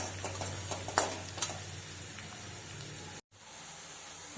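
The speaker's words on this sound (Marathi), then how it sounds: "आता आपण भाजी तेलामध्ये टाकलेली आहे। आता ती छान परतून घेऊयात।" Fresh dill greens sizzle softly in hot oil seasoned with turmeric and salt while being stirred, with faint scraping ticks over a quiet, steady fry.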